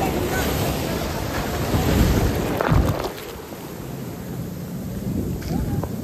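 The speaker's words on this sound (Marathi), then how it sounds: "मोठी लाट आली" Large ocean waves crash and wash onto a beach, a surging roar that swells and then recedes, mixed with gusty wind buffeting the microphone.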